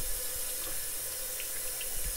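A tap runs steadily into a sink, mixing hot and cold water for watering a potted Red Stem and Pothos plant, a constant soft gush with no voices.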